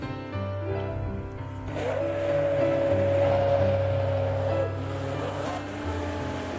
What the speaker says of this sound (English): we just blend up just a little bit longer